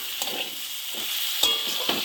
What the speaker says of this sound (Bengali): আলুটা আর পটলটা যেটা কষে রেখেছিলাম সেটা দিয়ে দিচ্ছি। একটুখানি নেড়ে নেব